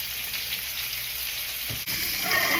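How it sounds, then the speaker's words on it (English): Meat sears in a hot frying pan with a steady, close sizzle that fills the whole stretch, broken only by one brief scrape or stir near the end. "3 minutes each side, give or take, just to get a good sear"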